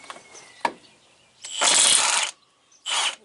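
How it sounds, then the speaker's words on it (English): A ratchet loosens lug nuts on the drive axle of a 1997 big truck. There are a couple of short clicks, then a long burst and a shorter burst of rapid, close metallic ratcheting. "Just loosen them all up and leave the nuts on there."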